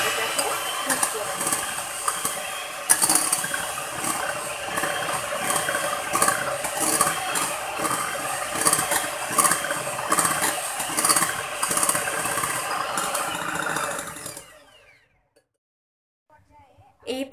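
An electric mixer beats egg yolks into sponge malai cake batter at low speed with a steady, close mechanical whir and rattle. It runs for about fourteen seconds under some talk, then cuts off abruptly into near silence.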